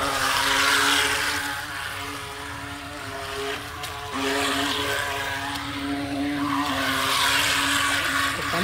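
An RC boat races across water with a steady, high-pitched motor whine that shifts pitch as it speeds along, loud and continuous throughout with no talking.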